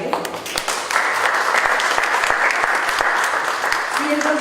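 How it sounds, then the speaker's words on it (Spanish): Audience applause for an architect introduced before a lecture on earthquakes and reconstruction, steady dense clapping filling the hall throughout, with a brief voice near the end. "Les pido por favor un aplauso para él."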